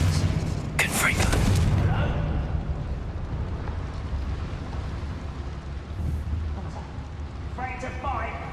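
A Confringo spell in Hogwarts Legacy fires with a loud, heavy booming blast near the start, then a rumbling tail. Faint chattering game sounds follow, and a voice is heard around it.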